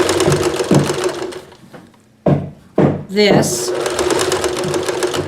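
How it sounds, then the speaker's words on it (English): A sewing machine runs in steady bursts, stitching strips of a log cabin quilt, with a pause midway and a clunk of fabric handling before the close, rhythmic stitching resumes; someone talks over parts of it. "And we are just going to sew"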